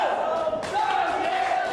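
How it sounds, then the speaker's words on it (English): A pro wrestling crowd roars and chants in a loud, dense wall of voices, swelling and surging throughout with shouting over the din. "This crowd is split between chanting "This is awesome" and "Go Diego, go.""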